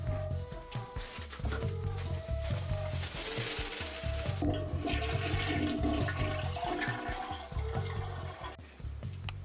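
A toilet flushing in a house, a loud, close, continuous rush and gurgle of water that churns steadily for about nine seconds before easing off at the end.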